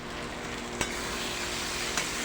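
Spice paste of onion, ginger, garlic and tomato frying in a pan, a steady close sizzle with two soft clinks of stirring.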